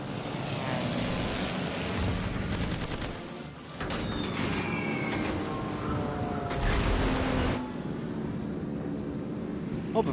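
Propeller planes in the naval combat game World of Warships Legends drone steadily alongside bursts of gunfire and explosions, a dense loud battle mix that shifts and dips partway through.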